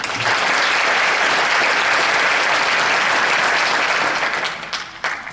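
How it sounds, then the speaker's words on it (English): Audience at a school district address applauding, a loud sustained burst of many hands clapping that holds steady and then thins out and fades near the end. "give her a round of applause"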